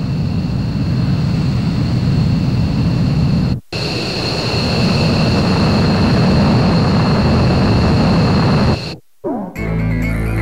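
Jet aircraft engines in the Ace Combat 4 combat flight game make a loud, steady roar with a whine on top. It runs nearly the whole time, breaking off briefly twice.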